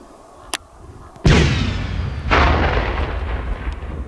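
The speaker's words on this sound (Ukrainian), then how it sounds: "Сапери викопали яму, в яку помістили касетний елемент, знищили його з відстані електропідривом." A cluster munition element from an Uragan rocket, placed in a dug pit by sappers, is destroyed by remote electric detonation: a sharp distant pop, then a heavy blast with a rolling rumble, a second surge and a long decaying tail.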